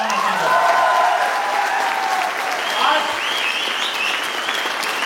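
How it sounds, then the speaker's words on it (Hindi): Audience applause for a speaker at a network marketing motivational event, clapping crowd sound mixed with a loud voice talking over it, strongest at the start and easing slightly toward the end. "रोहित पटियाल सर के लिए जोरदार तालियां"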